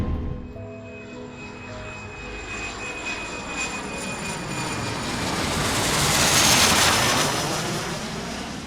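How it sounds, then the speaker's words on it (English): An airliner's jet engines fire up and the plane takes off. A broad, steady roar with a thin whine swells slowly to a loud peak and then eases off slightly. "the captain fires up the engines, and Flight 236 takes off to head to Lisbon."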